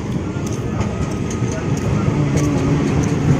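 A train passes nearby as a steady, broad rumble and rattle of wagons that holds for the whole stretch, with faint voices mixed in.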